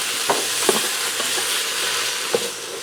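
Thin slices of eye round steak sear in a pressure cooker, giving a loud, steady sizzle up close with a few sharp scrapes and clicks as the meat is moved.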